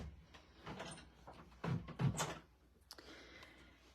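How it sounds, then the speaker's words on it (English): A door shut indoors to block outside noise, heard as a short shuffle and a couple of close, soft thuds of the door meeting its frame, with no talk over it. "Let me close this door here because it is kind of loud out."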